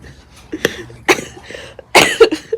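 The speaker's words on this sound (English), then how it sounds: "I'm coughing when I laugh" A few sharp, close coughs burst out in quick succession, separated by short breathy pauses.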